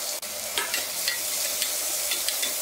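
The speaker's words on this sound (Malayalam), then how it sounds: "ഈ അരിഞ്ഞു വെച്ചിരിക്കുന്ന സവോളയിലേക്ക് ഇട്ട് ഇളക്കി കൊടുക്കാം" Chopped onion frying in a pan for tomato rice, with a steady close sizzle and several distinct scraping stirs of a spoon at irregular intervals.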